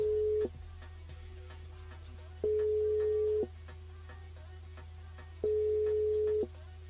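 A telephone line's busy or ringing tone sounds over a switchboard during a live radio call-in show: three long steady beeps, each about a second, separated by longer silent gaps, clear and alone.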